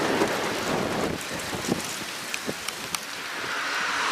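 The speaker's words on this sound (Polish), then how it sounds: "Słyszycie burzę?" Rain pours steadily in a spring thunderstorm on a motorcycle trip toward Croatia, a dense close hiss with scattered drops ticking on nearby surfaces and no talking.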